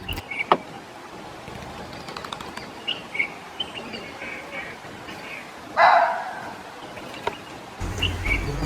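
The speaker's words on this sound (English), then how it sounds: "That's an alarm call of a barking deer." A barking deer's sharp alarm call rings out in the forest of Tadoba Andhari Tiger Reserve, a few brief, spaced barks at moderate distance, with one louder call standing out against birdsong and ambient jungle sound.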